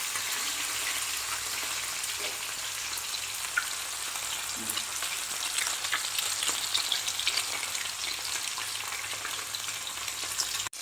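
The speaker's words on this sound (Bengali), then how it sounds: "দই মাছ কিন্তু বেশি ভাজা হয় না, হালকা ভাজতে হয়" Katla fish pieces fry lightly in oil for doi maach, giving a dense, continuous sizzle and crackle with occasional pops, close and steady throughout.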